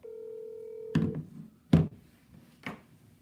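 A telephone's steady dial tone holds for about a second before a few sharp key-press beeps as a number is dialed, close and clear with no talking.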